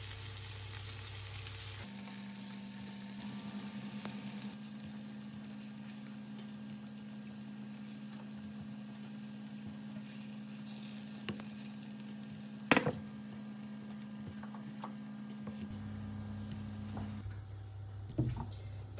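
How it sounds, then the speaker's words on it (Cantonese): Tofu fries in a pan until golden, a soft, steady sizzle running throughout at low volume, with a low hum in the background and a couple of brief clinks or taps from the pan. "我哋反轉嚟，將另外一邊都煎到去金黃色"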